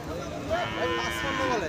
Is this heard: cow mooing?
yes